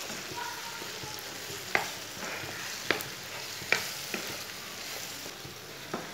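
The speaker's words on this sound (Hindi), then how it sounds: "सब मसाले डाल के एक मिनट तक पका लेना।" Spices for karela chana dal, including red chili powder, turmeric and whole coriander, sizzle softly and steadily in a pan, with occasional sharp clicks of a spoon stirring against it.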